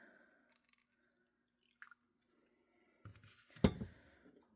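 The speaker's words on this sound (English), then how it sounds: "I've got some hot water out of our water dispenser. I'm just going to pour in there." Hot water from a water dispenser is poured into disposable bowls: a few faint drips in near-silence, then a louder splashing pour that swells briefly and tails off.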